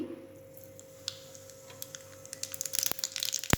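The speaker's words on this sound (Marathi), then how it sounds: "तेल गरम झाले आता यामध्ये मोहरी" Mustard seeds popping and crackling in hot oil, sparse sharp pops at first that grow quicker and denser toward the end, over a steady hum.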